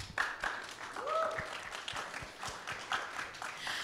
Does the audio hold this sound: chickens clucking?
no